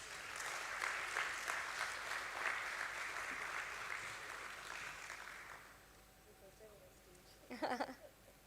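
An audience claps at a stock exchange listing ceremony for Borosil Scientific Ltd, a moderately loud round of applause that fades after about six seconds. A few claps and a short clatter follow near the end.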